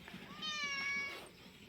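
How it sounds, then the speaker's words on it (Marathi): A cat gives a single drawn-out meow, fairly quiet and close, rising and falling over about a second against a faint farmyard background. "कुत्रे का मांजर आहे? मांजर."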